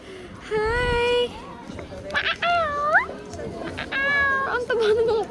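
Several cats meow in turn, with long drawn-out rising and falling cries, fairly close, at a cat village in Taiwan, with quiet human voices and bustle in the background.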